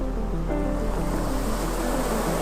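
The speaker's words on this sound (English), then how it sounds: "Waves play with the rocks." Atlantic waves washing against volcanic rocks on Lanzarote, a continuous loud rushing surf with a low rumble and some wind buffeting, no speech.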